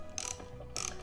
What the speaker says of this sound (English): I'm just gonna use a socket wrench.